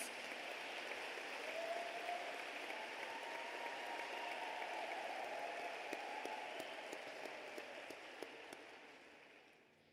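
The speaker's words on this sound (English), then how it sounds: "let's give a huge round of applause to our graduates and diplomas" Graduation ceremony audience applauding its graduates, a soft, distant, continuous patter of clapping that slowly fades toward the end.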